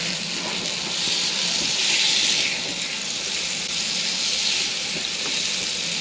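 Eggs frying in a pan inside a Mercedes Vario camper van, a steady, close hiss and crackle of sizzling that swells and eases slightly over several seconds without pause.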